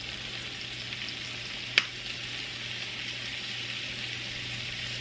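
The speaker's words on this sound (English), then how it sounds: "I'm just going to let these saute up for just a couple minutes" Onions sautéing in bacon grease for a rigatoni pasta dish give off a steady, even sizzle, close and continuous, broken once by a sharp click.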